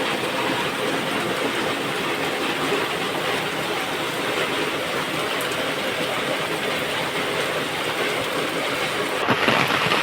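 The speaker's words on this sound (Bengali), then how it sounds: "ও বৃষ্টি আরো জোর আইছে" Heavy rain pours down steadily in a village, a dense, constant roaring hiss that fills the air without letting up, with a faint knock near the end.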